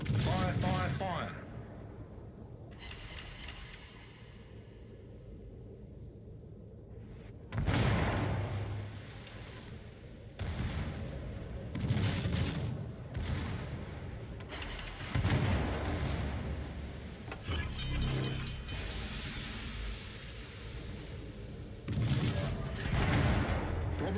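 Naval gunfire from warship guns in the World of Warships game: heavy booming salvos and rumbling blasts recur in bursts over a steady engine drone, loud and close.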